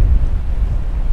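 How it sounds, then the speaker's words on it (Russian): Strong coastal wind buffets the microphone beside rocks and a small island, a steady low rumbling roar with no voices. "Сейчас здесь ветер достаточно сильный."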